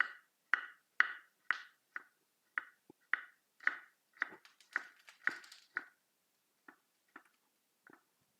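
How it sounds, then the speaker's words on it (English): A knife chops shallots into thin slices on a board, giving a quiet, evenly spaced series of crisp taps that slow and thin out toward the end. "Cut the shallots into thin slices."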